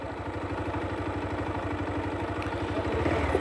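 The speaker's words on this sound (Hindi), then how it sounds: "ना, बाइक नीचे तक जाएगी" A motorcycle engine idles on an off-road hill trail with a steady low, rapid putter that is close and continuous, rising slightly near the end.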